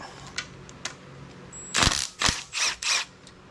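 Metal plate worked loose from a Willys Jeep F-head engine during teardown: a few light clicks, then four close, loud scraping clanks in quick succession, with no one talking.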